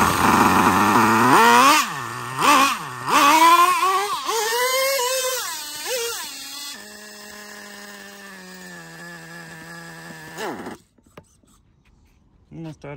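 A nitro-powered RC tank's small engine revs in rising and falling bursts, then drops to a steady, buzzy idle before sputtering and cutting out as it runs dry, leaving near silence.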